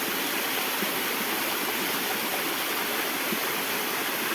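Continuous hiss and rush of flowing river water at night, even and fairly loud throughout, with no talking.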